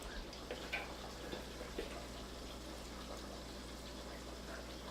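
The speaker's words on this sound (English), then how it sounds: "Now you'll notice I go to the sink and I add water each time" Water runs from a kitchen sink tap in a steady, soft, continuous gush with faint splashing.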